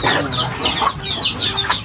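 Chickens at feeding time on a farm beside a fishpond cluck busily and loudly nearby, a dense overlapping chorus of repeated calls with no talk.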